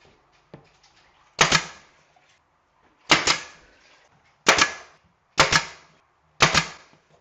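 Five sharp pneumatic nail gun shots fire at irregular intervals while kitchen cabinets are installed, each crack loud and close with a short ringing tail, separated by near silence and faint handling noise.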